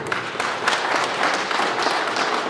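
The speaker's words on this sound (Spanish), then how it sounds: "un fuerte aplauso para cada uno de ellos." A crowd at a patron saint festival for San Martín de Tours in Pisacoma applauds the outgoing and incoming festival sponsors, a dense, steady wash of clapping from many hands, loud and continuous.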